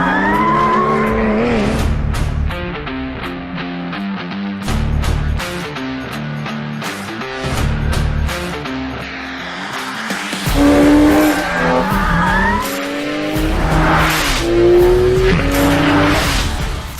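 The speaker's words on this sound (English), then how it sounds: "I think we have some time to warm up the tires." A Porsche 911 GT2 RS warming up its tires, with loud close engine revs rising and falling and sustained squealing tires building over the second half.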